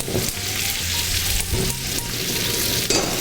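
Sauce tossed in a hot pan sizzles loudly and steadily, with a few scraping tosses breaking through the continuous hiss and no talking.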